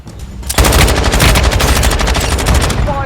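Sustained automatic gunfire from Call of Duty Warzone Mobile, a dense continuous rattle of rapid shots starting after a brief quiet opening and running loud to the end.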